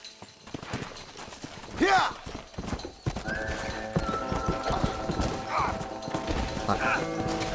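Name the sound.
horse galloping in video game Red Dead Redemption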